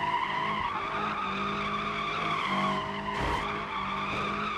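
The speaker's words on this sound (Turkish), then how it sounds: "Dur bakalım şöyle biraz lastik yakalım." Tires squeal in a sustained skid during a burnout in the BeamNG.drive driving game, a loud continuous screech over a droning engine tone with a brief louder burst near the end.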